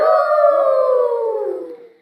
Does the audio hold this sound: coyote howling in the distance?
yes